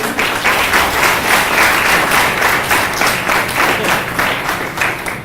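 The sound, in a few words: audience applause for panel leaders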